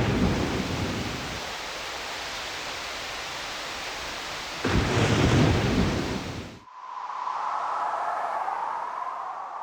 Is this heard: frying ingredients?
no